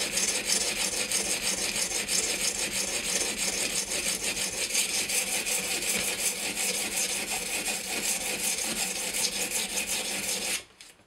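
Steady back-and-forth rasping of a Spyderco Paramilitary 2 knife in high-carbide CTS-20CP steel drawn across Edge Pro sharpening stones, close and continuous for about ten seconds before stopping abruptly.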